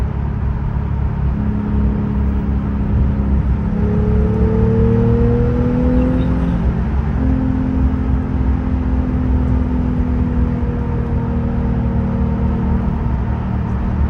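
A 2018 Porsche 911 Carrera GTS exhaust in Sport Plus mode gives a steady, loud, close low rumble with rising and falling engine tones as it revs, heard alone.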